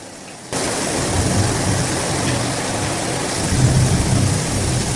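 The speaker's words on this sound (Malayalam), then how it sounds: "ബാക്കിൽ സൗണ്ട് കേട്ട് നിങ്ങളൊന്നും വിചാരിക്കണ്ട, നല്ല മഴയാണ്" Heavy rain pours steadily outdoors with low thunder rumbling underneath, a loud continuous wash that begins abruptly after a brief quieter moment and swells slightly near the end, with no voices.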